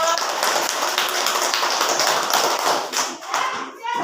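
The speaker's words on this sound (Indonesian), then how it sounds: "tepuk tangan buat Pion" A fifth-grade social studies class in Indonesia claps for a student, a dense, steady patter of many hands near and loud for about four seconds, easing slightly toward the end.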